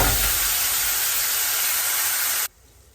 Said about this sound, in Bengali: তেঁতুলগুলোর যে জলটা ছিল, সেই জলটাকে আমি ছেঁকে এর মধ্যে